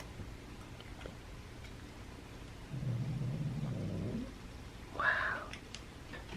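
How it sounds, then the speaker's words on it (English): A low, rumbling growl from a feral cat sustained for a second or so, followed by a brief higher yowl, against a quiet background. "Simba's really growling"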